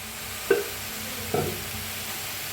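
Field beans roast with a little oil in a pan, giving a steady soft sizzle with two brief louder stirring scrapes.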